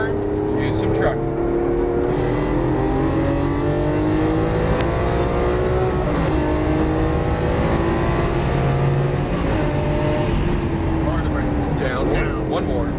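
A Lamborghini Aventador LP700-4 lapping a race track at Exotic Racing Las Vegas: the engine note climbs and drops through gear changes, loud and continuous from inside the car, while an instructor keeps talking over it.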